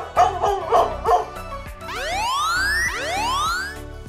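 Recorded dog barking broadcast over the loudspeaker of a DJI Mavic 2 Enterprise drone to move livestock: several quick barks and yips, then rising whistle-like sweeps, over a steady buzzing pulse in the background.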